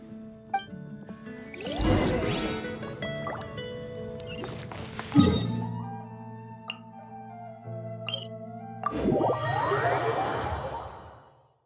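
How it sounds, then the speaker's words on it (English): Potion poured over sweet flowers in Genshin Impact: bright magical whooshes, chimes and liquid drips rise and fall in several bursts, with sparkling ringing tones and a bubbly swell near the end, no talking. "We just need to douse them with the potion and see what happens"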